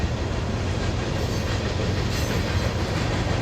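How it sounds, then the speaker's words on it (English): A long Norfolk Southern freight train rolls steadily past, pushed from the rear by a distributed power locomotive shoving hard, with a constant loud rumble and wheel clatter throughout. "NS 7689 brings up the rear as a DPU. She was shoving pretty hard"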